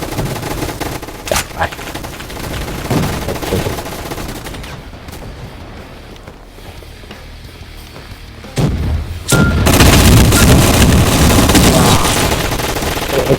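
HK machine gun in a Roblox gunfight arena firing rapid, loud bursts, with a brief lull before a sustained dense stream of automatic fire.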